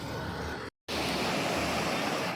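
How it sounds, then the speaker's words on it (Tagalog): Steady broadband roar of heavy surf at a beach resort in Morong, Bataan, with a brief dropout partway through; loud, continuous wash of ocean waves and no voices. "ang lakas ng alon"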